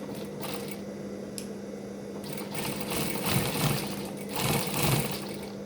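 A sewing machine runs close by, stitching fabric in short bursts with pauses between them, its needle clattering in a fast, steady rhythm.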